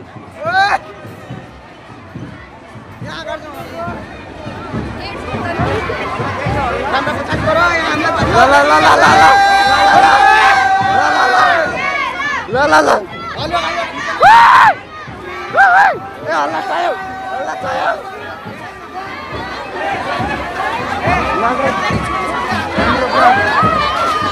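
A large crowd at an HIV/AIDS awareness program in Dhangadhi shouts and cheers loudly and continuously, with surging yells, whistles and chanting voices rising and falling throughout.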